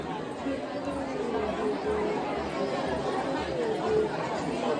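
Steady murmur of a dense crowd chattering while queuing at a temple entrance for darshan, a continuous wash of overlapping voices at moderate level with no single speaker standing out.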